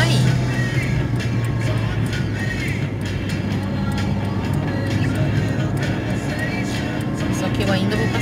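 A car on a highway overtakes trucks, with a continuous close rumble of engine and tyre noise that swells slightly as the vehicles pass one another.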